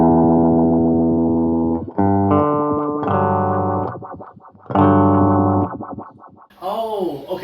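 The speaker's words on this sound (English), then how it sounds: "Let's go to the sweep echo." Sweep echo effect on a Line 6 Spider IV 15W guitar amp, with sustained distorted guitar chords trailing into warbling, pitch-sweeping repeats, loud and close.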